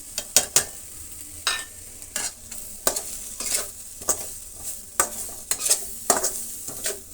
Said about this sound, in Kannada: ಇದು ಈರುಳ್ಳಿ ಜೊತೆ ಒಂದು ಅರ್ಧ ನಿಮಿಷ ಫ್ರೈ ಆಗಲಿ ಮಸಾಲೆ